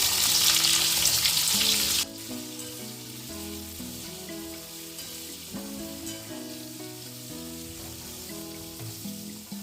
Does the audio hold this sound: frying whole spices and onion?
yes